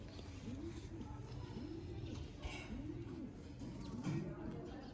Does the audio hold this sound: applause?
no